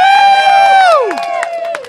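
A crowd at a stage hypnosis show cheers loudly up close, a drawn-out collective whoop that swoops down and gives way to shouts and claps.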